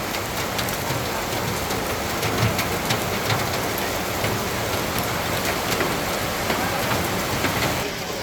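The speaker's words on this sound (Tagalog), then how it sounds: "Grabe ang ulan." Heavy rain pours down in a dense, loud, unbroken hiss with scattered heavier drops splashing nearby, steady throughout and without voices.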